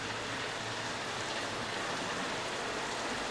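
Steady, dense rain from a Back to the Future movie scene hisses without a break, loud and close, with no voices over it.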